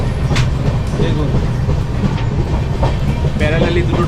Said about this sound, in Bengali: প্যারালালি দুটো ট্রেন চলছে, হাওড়া মুম্বাই ওটা গাড়ি